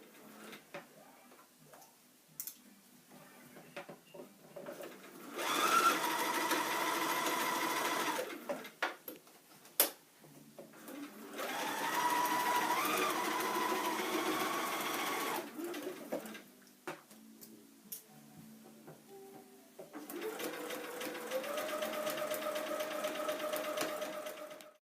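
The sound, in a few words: sewing machine stitching layered fabric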